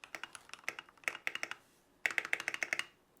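Keystrokes clack on a Keychron K8 Pro mechanical keyboard in two quick bursts of crisp, close typing separated by a short pause.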